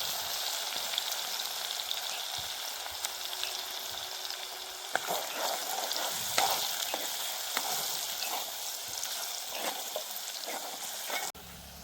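Asafoetida sizzles in hot tempering oil with ginger-chili paste and whole spices, a steady crackling fry punctuated by stirring scrapes and small knocks, close and fairly loud throughout.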